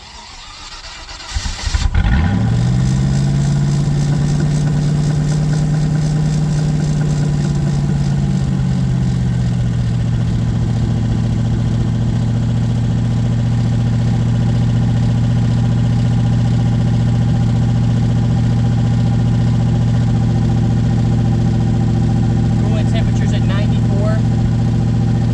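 A Land Rover with a newly swapped engine starts and settles into a steady, loud idle, a constant low drone that holds unchanged for over twenty seconds with no talking.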